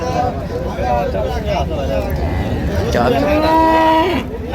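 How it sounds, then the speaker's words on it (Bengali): Cattle at a village market in Dinajpur, where dairy cows and calves are sold, give a drawn-out moo nearby, rising and sliding in pitch over a background of crowd chatter. "গাভী বাছুর"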